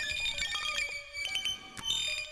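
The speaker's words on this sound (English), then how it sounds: "It generates grains each time it receives clock, as well as if you hit the generation button, and it sounds like that." A Qu-Bit Mojave granular processor outputs a dense, shimmering cloud of pitched synthetic grains, bright ringing tones that stutter and overlap continuously at moderate volume with no talking.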